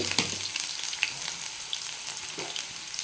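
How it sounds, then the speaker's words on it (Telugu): A soft, steady sizzle of an onion frying in hot oil in a kadai, fairly quiet, with a couple of faint clinks. "కడాయి పెట్టేసుకొని ఆయిల్ వేసేసుకున్నా. తర్వాతకి ఒక ఆనియన్ వేసేసుకుంటాను."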